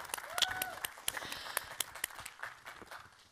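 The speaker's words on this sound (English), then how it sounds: "let's give her a huge round of applause" Audience at a talk bursts into applause, brisk clapping spread across the room for a few seconds with a whoop rising over it.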